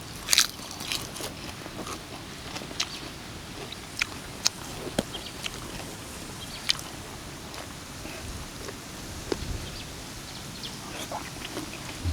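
Close, crisp crunching bites of spicy Thai chicken feet salad with a pounded chili dressing, irregular crackly chews spread over several seconds against a quiet background.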